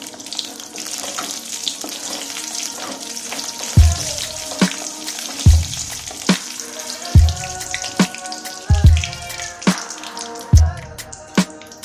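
Urad dal frying in oil in a pan, a steady close crackle and hiss with several louder stirring scrapes at intervals over the sizzle.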